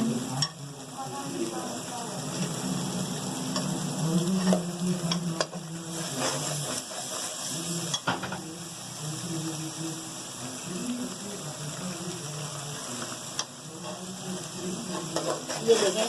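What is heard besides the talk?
masala frying in a pan for kofta gravy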